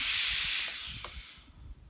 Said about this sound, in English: I'm going to steam these down